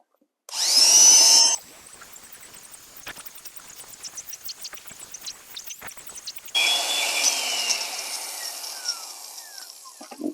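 Sand being poured and stirred into extreme duty epoxy mortar for patching an asphalt driveway: a loud gritty pour at the start, quiet scraping and rubbing in the middle, then a steady broadband churning of mixing toward the end.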